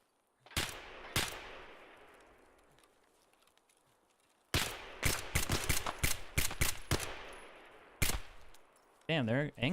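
Gunfire in Escape from Tarkov, with two sharp shots followed by a long echoing tail, then a rapid burst of automatic fire and another loud single shot, close and crisp, with a brief warbling effect at the end.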